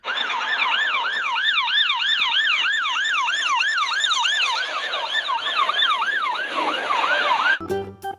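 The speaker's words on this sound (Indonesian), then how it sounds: "ternyata ada mobil pemadam kebakaran" A toy fire truck siren wails in a fast, repeating electronic up-and-down cycle, loud and close, running steadily for several seconds before cutting off with a few clicks.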